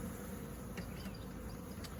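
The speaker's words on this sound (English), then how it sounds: "This is literally the old adage, box full of bees." Honeybees in a crowded hive box packed full, close to swarming, with a steady low drone of buzzing that holds continuously at a moderate level, no voices.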